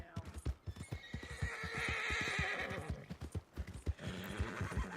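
A horse in Red Dead Redemption 2 gallops with steady clip-clopping hooves and lets out a long whinny midway, close and fairly quiet, while someone talks.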